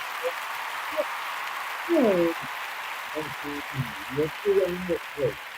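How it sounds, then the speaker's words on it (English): A continuous wash of live television studio audience applause fills the background while someone speaks over it and some voices cheer. "Let's give our audience a round of applause"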